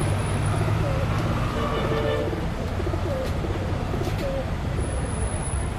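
Plump pigeons cooing repeatedly in soft low calls in a backyard vegetable garden, over busy outdoor background noise, with people talking nearby.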